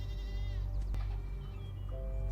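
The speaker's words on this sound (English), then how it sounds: "That goat right there." A goat gives a single wavering bleat, moderately close, followed by a fainter second call, over a steady low background hum with no talk.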